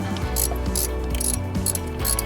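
A ratchet clicks in quick repeated strokes while tightening bolts on a 2005 Ford Mustang GT, close and loud, with a metallic pawl rattle and no talking.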